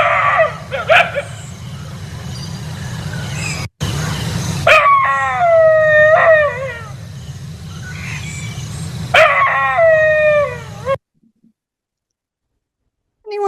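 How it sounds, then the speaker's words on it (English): An Indian Pariah dog howls and yips in long, rising and falling wails, loud and close, with several overlapping calls over a low rumble, before the sound cuts to near silence. "That is a dog breed called the India Pariah dog"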